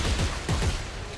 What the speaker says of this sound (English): That machine gun is a fucking good machine gun.